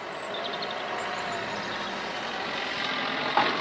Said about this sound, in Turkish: Evet bir araba geçiyor.